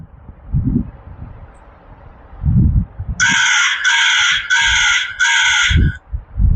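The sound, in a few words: crow cawing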